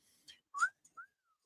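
A person whistles a few short, faint notes close by, a brief chirp followed by a quick upward slide and a short falling tone, separated by silence.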